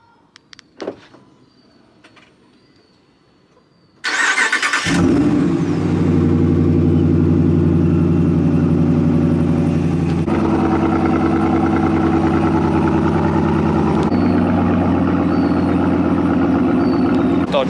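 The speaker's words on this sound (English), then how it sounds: "Dodge Ram, as you can see, you can start it up" A Dodge Ram truck engine cranks and fires up after a few seconds of quiet clicks, then idles loudly and steadily with a deep, throaty rumble that shifts slightly in pitch.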